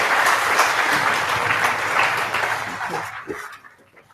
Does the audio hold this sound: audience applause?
yes